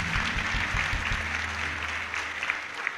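A church congregation claps together in dense, steady applause, with some low rumbling voices underneath at the start.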